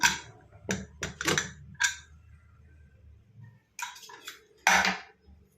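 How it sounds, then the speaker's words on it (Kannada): A pressure cooker used for sprouted chickpea sambar is opened, giving several sharp metallic clanks and clatters of the lid and vessel, spaced irregularly with quiet gaps, close and fairly loud. "ಈಗ ಕುಕ್ಕರ್ ತೆಗಿತಾ ಇದ್ದೀನಿ"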